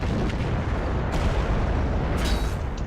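A T-54 tank cannon fires in World of Tanks, a loud, booming blast with heavy low rumble that stays dense throughout the short clip, with a sharper crack near the end.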